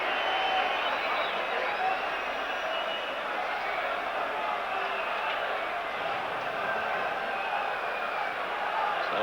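A football stadium crowd at a 1993 Champions League match between Club Brugge and Rangers keeps up a steady, distant wash of applause and murmuring that fills the whole stretch evenly.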